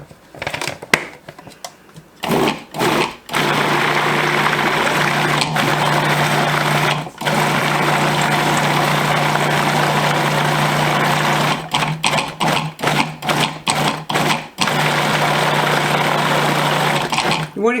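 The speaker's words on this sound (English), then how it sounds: "So I'm going to get my lid on here and whiz it up." Countertop blender whizzing canned green chilies into a Tex-Mex green salsa, running in a long loud steady whir after a few brief pulses, stopping briefly partway and ending with a series of short stop-start bursts.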